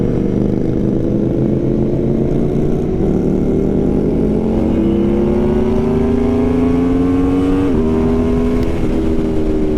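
An Aprilia Tuono motorcycle accelerates hard from a clutch-up launch. Its loud, close engine note climbs steadily through the gears, with brief dips at the shifts, and it runs continuously with no talk.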